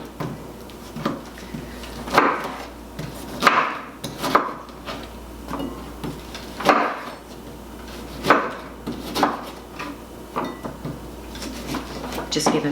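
A knife cuts through fresh lemons on a board, producing repeated knocks and thuds at an uneven rhythm, close and clear, with a person talking throughout.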